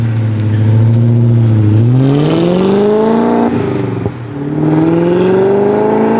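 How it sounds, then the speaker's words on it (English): A straight-piped BMW 540i V8 with a manual gearbox roars loud and close, pulling hard with rising engine pitch, a brief dip and crackle as it shifts around the four-second mark, then climbing again. "Guys, that 540 sounded insane."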